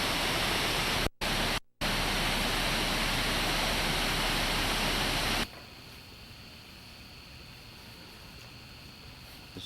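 A waterfall just outside the small town of Waterton in Glacier National Park roars as a loud, steady hiss, broken by two brief dropouts, then drops to a quieter, more distant rush halfway through.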